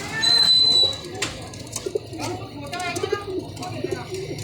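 Pigeons, a Ferozpuri female and a Teddy pigeon, coo softly in low, rhythmic bursts close by, partly under someone talking.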